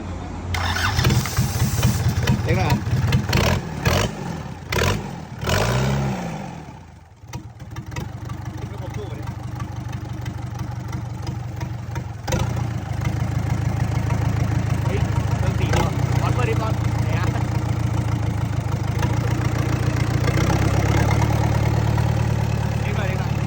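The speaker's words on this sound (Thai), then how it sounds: "หลังจากนั้นผมก็ทำการสตาร์ทเครื่องเพื่อดูว่า น้ำมันเนี่ยออกตรงแป๊บโพชีดหรือยัง" An old diesel engine being started, cranking with sharp bursts before catching and settling into a steady, loud idle that runs for a long stretch.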